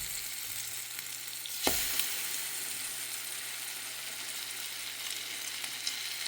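Rum cream French toast slices frying in a pan over medium heat: a steady, close sizzle with a brief clatter partway through, then continued even crackling, with no talking.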